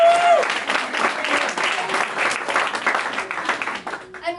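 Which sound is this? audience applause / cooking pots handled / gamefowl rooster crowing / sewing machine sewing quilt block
audience applause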